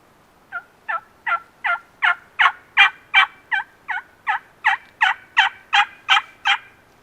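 A wild turkey gobbles in a long rapid run of about sixteen sharp calls in the Idaho woods, fairly distinct and steady in rhythm, with no voices over it.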